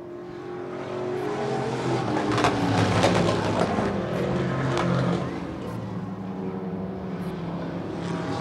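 Vintage stock cars, among them a 1936 Chevy, roar around a hobby racing track with a steady droning engine blare that swells as they pass close by, then holds at a lower, continuous rumble.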